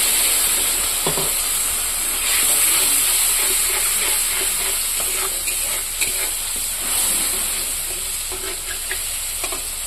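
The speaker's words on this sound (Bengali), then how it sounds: "আর দিয়ে দেবো জিরার গুঁড়া দিয়ে কিছুক্ষণ ভাজবো।" Turmeric and cumin powder fry in hot oil in a pan, giving a loud, steady sizzle and hiss. A few light stirring scrapes cut in now and then, and no voices are heard.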